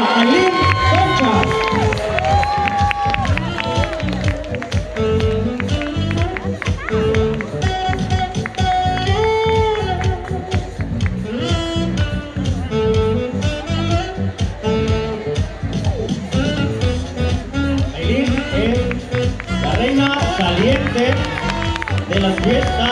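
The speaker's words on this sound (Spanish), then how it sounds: "Un fuerte aplauso para Aileen Concha." Crowd at a patronal town festival in El Puente, Nayarit, cheering and applauding loudly and continuously over music and a voice on the PA, with shouts rising through the noisy, dense din.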